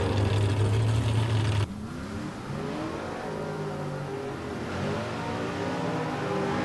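Factory stock drag racing cars, including the Libisher Racing COPO, rev and roar loudly at a drag strip, with one sustained engine drone that drops abruptly, then a steady blaring engine tone that builds again.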